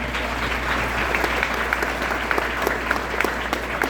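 A dinner audience at a Putnam County Lincoln Reagan event applauds steadily for a state treasurer candidate, a dense even wash of clapping with a few sharper claps standing out near the end.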